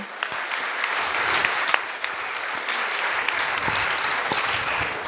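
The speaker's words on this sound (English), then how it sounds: "Can we have a round of applause for all of them?" An audience at a chartered accountants' conference session applauds steadily for about five seconds, a dense, even wash of many hands clapping.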